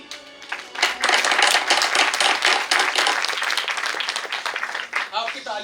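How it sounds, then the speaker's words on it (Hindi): A packed audience at a Swadeshi event at NITTTR Bhopal breaks into loud, sustained clapping that swells after a quiet opening, then thins and tapers near the end. "आपकी तालियों की आवाज बता रही है कि आप स्वदेशी के इस विचार से सहमत हैं।"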